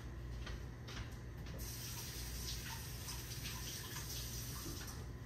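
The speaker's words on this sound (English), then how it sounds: "I'll have to see if I can rinse my hands off real quick" Running tap water rinses hands in a kitchen sink, a faint steady gushing stream that continues without a break.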